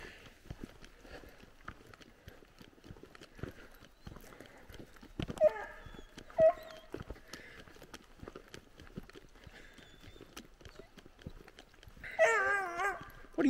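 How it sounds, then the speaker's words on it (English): A hound puppy barks a few times at moderate distance in the backwoods, with scattered clicks and clatter between barks and a longer bark sequence near the end. "What are you barking at?"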